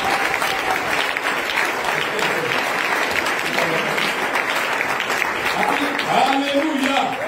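A church congregation claps and cheers loudly and steadily, with voices mixed into the dense applause throughout.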